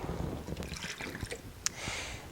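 Tap water being poured into cups holding a little sesame seed oil, a soft trickling and splashing liquid sound, faint and close, with a small clink partway through.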